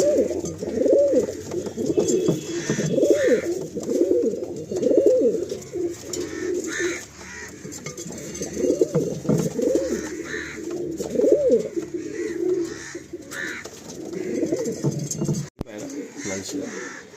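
Red-necked Andhra pigeons, paired in a loft in Kolkata, coo in a steady, repeated rhythm at close range, with soft rustling and faint chirps around them.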